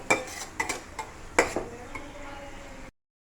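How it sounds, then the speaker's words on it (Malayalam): Onions with salt being sautéed for ghee rice, several sharp metallic scrapes and clinks of a spoon in the pan over a faint sizzle, fading out before the end. "കുറച്ച് ഉപ്പൂടെ ചേർത്ത് നമുക്ക് നല്ലോണം വഴറ്റിയെടുക്കാം"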